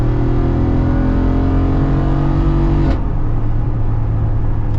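Modified Jeep Wrangler Rubicon 392 V8 idling loudly with a deep, rumbling exhaust, engine pitch dropping after a brief rev change, heard close and alone.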